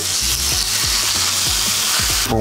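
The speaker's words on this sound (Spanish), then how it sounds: "Eso, vamos a sofreír muy bien" Goat meat seasoned with paprika, onion and plenty of salt sautés in a hot pan for a Santander-style cabrito, a loud steady sizzle broken by several rhythmic scraping stirs, close up and with no talk.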